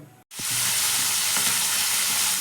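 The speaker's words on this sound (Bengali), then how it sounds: "দেখতে পাচ্ছ মাছ ভাজা বসিয়ে দিয়েছি" Chenga fish frying in hot oil makes a loud, steady sizzle that bursts in suddenly after a brief pause and holds, broad and hissing, throughout.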